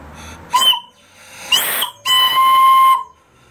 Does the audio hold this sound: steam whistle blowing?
yes